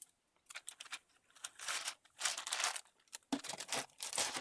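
Craft coffee stir sticks being cut, a series of close, sharp crisp snips and crackles arriving in irregular bursts separated by short quiet gaps.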